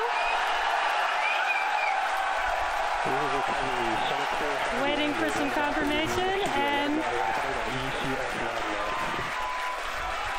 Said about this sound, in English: There's a lot of cheering.